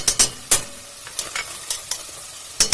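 Tomato paste sautéing in a pan, with a low constant sizzle broken by sharp, close spatula taps and scrapes coming in irregular clusters.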